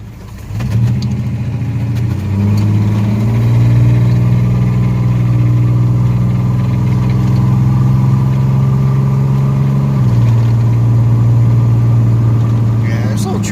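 A 1982 Chevy S10 pickup with a 2.8 V6 drives and accelerates, its engine droning steadily from close inside the cab, with the pitch shifting as it changes gear partway through and climbs again near the end.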